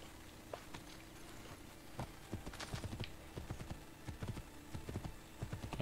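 Horse hooves clip-clop steadily in the Assassin's Creed II video game, a rhythmic run of soft thuds on hard ground, moderately close under a faint ambient background.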